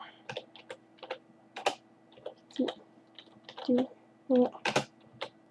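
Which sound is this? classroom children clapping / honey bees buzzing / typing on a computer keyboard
typing on a computer keyboard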